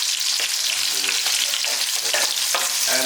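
Chicken chilly sizzling and frying in hot oil, a loud, continuous crackle with sharp pops and the occasional scrape of stirring, close up and with no talking.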